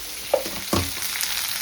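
Onion, garlic, fenugreek, cumin and pepper frying in two spoons of oil in a pan: a steady close sizzle with a couple of sharp stirring knocks, no voices.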